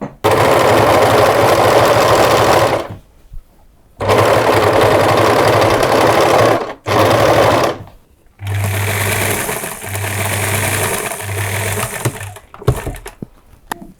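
Sewing machine top stitching the seams of overalls, running in long loud bursts with brief stops, then shorter rhythmic runs toward the end, close up.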